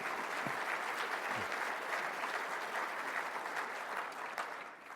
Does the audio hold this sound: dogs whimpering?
no